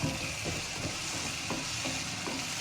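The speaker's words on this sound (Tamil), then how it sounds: "இது கொஞ்சம் நல்லா வதங்கணுங்க, பார்த்துக்கோங்க." Carrot, beans and green peas sautéing in a pan for vermicelli upma, a steady close sizzle with soft intermittent stirring scrapes and no voices.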